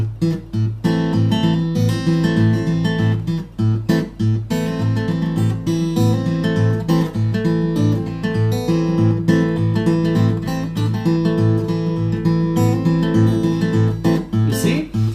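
Fingerstyle acoustic guitar played Travis-style, a steady alternating thumb bass thumping evenly beneath plucked melody notes, close and continuous with no talking.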